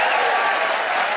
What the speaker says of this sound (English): it's the audience's turn to vote by applause to pick a winner